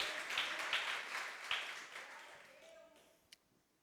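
Church congregation applauding, a dense wash of clapping that swells early then fades out over a few seconds, moderately distant.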